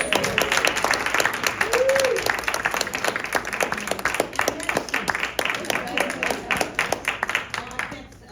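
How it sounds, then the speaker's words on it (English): An audience at a senior living seminar gives a speaker a round of applause, dense, even clapping from many hands that holds steady with a brief voice rising above it. "Let's give her one more round of applause."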